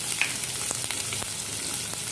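Onions sizzle and fry in a pan for a spicy eggplant and potato curry, a soft steady hiss with a few faint clicks of stirring, alone without talk.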